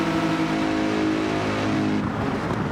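Race car engines in Gran Turismo 7 during a BTCC replica touring car race drone steadily and loudly, a dense sustained roar with engine note shifting slightly toward the end.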